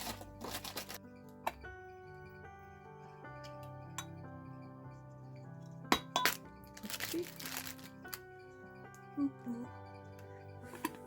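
Glass canning jars in a four-jar rinse tray clink and tap at scattered moments while being handled for preserving squash, over a sustained tonal background.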